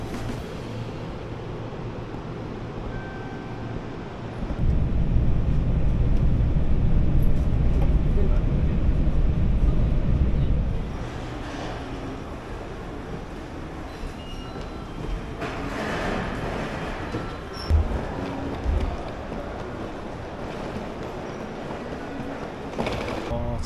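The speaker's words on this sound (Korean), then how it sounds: "이제 오늘의 도착지 하마마츠 역까지 가는 지하철을 탔습니다." A subway train in Japan rumbles along on the way to Hamamatsu station, a loud low roar swelling for several seconds mid-ride before easing back to a steadier hum with faint knocks.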